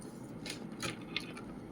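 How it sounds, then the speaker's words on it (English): Tarot cards being shuffled by hand, heard as a few soft, quick riffling and snapping bursts close by in a quiet room. "I shuffle my cards like this"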